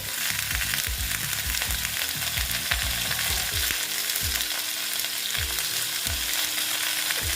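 Katoa drumstick stems stir-frying in a pan for a plain vegetarian dish, a steady loud sizzle broken by repeated scraping stirs of the spoon against the pan, with no talking.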